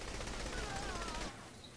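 Sustained gunfire rattles through a firefight in Saints Row: The Third, a dense, loud burst of shots filling most of the moment before dropping off abruptly near the end.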